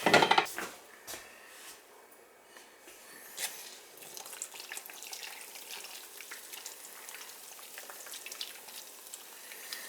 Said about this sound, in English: Just gotta add some water to that